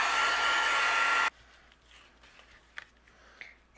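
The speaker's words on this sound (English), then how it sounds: "I'm going to dry it with my heat gun." A heat gun dries a colorful stamped card background, giving a loud, steady blowing whoosh for just over a second. It then cuts off abruptly, leaving faint rustles and small handling taps.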